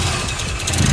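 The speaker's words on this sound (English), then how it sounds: "let's start this thing up so you guys can hear it" A rear-wheel-drive Honda Civic engine idles loudly and roughly close by, a steady low rumble with slight unevenness.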